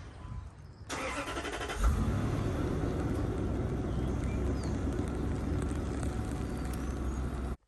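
A Lexus LX470 (Land Cruiser) drives along at sunset, its engine and road noise a steady, loud rumble that kicks in after a brief start and holds throughout, with no talking.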